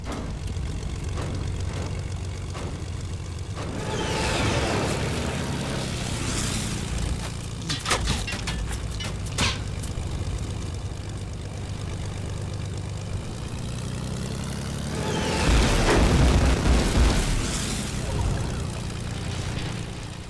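An airplane in the Fortnite video game drones with a steady engine hum, swelling louder twice as it passes close, with sharp clicks and game effects scattered over the top.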